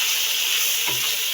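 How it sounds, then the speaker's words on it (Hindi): Chicken frying in a pan with cumin, a steady dense sizzle running throughout at close range, with a brief stir or scrape partway through and no voices. "अब हम इसमें डालेंगे चिकन 1 कप और अच्छी तरह से इसे फ्राई करेंगे"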